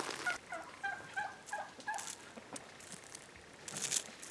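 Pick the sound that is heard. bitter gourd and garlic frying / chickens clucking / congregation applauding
chickens clucking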